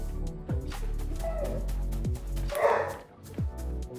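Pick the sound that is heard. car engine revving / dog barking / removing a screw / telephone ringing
dog barking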